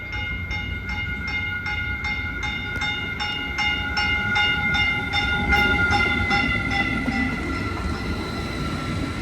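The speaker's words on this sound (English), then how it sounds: "here comes the holiday train" Caltrain holiday train, set 319/320, rolls into San Mateo station, a steady rumble with a fast, regular clicking of wheels over rail joints and some ringing tones, heard at moderate distance without voices.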